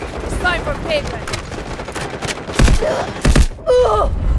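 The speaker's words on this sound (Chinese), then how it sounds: "战况太激烈，有人拿机枪直接架点。" Gunfire rings out in a hectic firefight in the video game Delta Force, with a machine gun holding a position. Loud bursts and single shots land through the middle and later part of the clip, and groans and brief voice fragments are mixed in.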